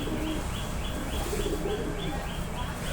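Golden pigeons kept in a loft give soft, repeated cooing calls with a few faint chirps, steady and fairly close against a low background hum.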